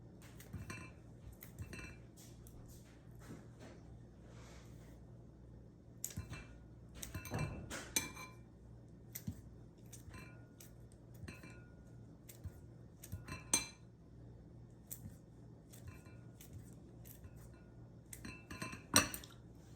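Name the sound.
knife cutting browned sausages into pieces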